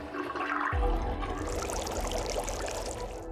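A filled sink in the video game Zero Time Dilemma drains after being unplugged: a sudden gush of rushing, gurgling water starts and continues steadily, loud and close, with no talking.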